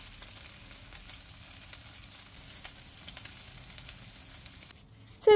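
Zucchini slices frying in oil in a pan, a steady close crackling sizzle with faint popping throughout, ending abruptly in a brief louder clatter.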